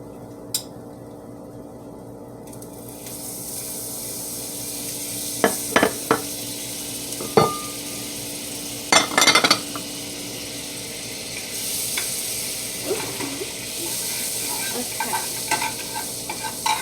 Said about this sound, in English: we're going to put butter.